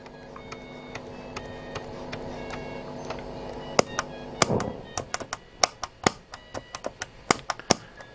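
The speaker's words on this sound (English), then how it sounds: "that was the sound of an AF117 dying." A failing AF117 transistor in a Hacker Sovereign RP18 radio makes crackling pops and sharp clicks that burst irregularly over a faint steady hum, growing denser and more erratic toward the end.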